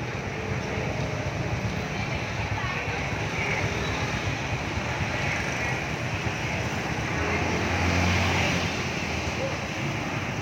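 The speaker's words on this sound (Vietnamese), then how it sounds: "máy đang cực kỳ êm luôn nha các bạn à. Đó. đang nổ máy đó" A Honda Wave Thai 110 motorbike engine idles smoothly and quietly, giving a steady, even rumble that holds at the same level throughout, with some wind-like noise over it.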